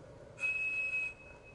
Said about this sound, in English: I need 2600 right hertz. Here, the Captain Crunch whistle.